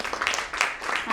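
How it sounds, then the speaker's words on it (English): An audience at a data center industry panel discussion gives a brief scatter of applause for a panel speaker, with clapping mixed under a voice over the PA. "Can we have a round of applause, please?"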